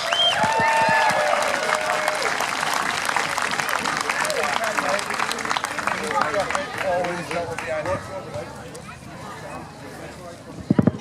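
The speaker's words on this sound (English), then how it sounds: "So when you're ready, big round of applause for Matt Nethercourt" Crowd applause at an outdoor Highland Games in the Peak District, loud and steady from the start and thinning toward the end, with an announcer's voice and scattered cheers over the clapping.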